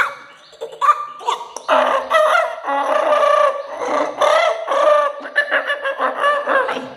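A voice imitating a chicken, with loud, continuous clucking and crowing-like squawks that rise and fall in uneven bursts, close and unaccompanied.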